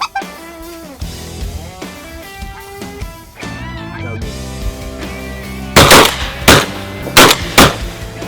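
Shotgun blasts during a Louisiana mallard duck hunt in shallow water on a foggy morning: four loud, sharp reports in the second half, spaced about half a second to a second apart, following quieter ambient sound with some talk.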